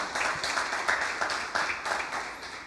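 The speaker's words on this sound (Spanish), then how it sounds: "Dele un aplauso al Señor. Apláudale." A church congregation claps together in a fairly rhythmic, dense burst of applause, steady through the whole stretch with no talk over it.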